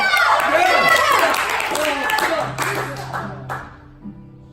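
An audience at a hosted performance cheers and claps for a performer, a loud burst of voices and applause that gradually fades, with shouting voices mixed in.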